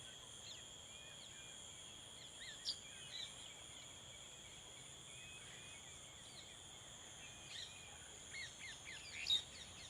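Birds chirp and call faintly at evening as they gather at their nests, scattered short tweets over a steady high insect drone.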